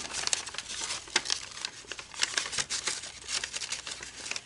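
A paper gift bag is folded and creased by hand, crinkling and rustling continuously up close, with several sharper crisp crackles and no talk.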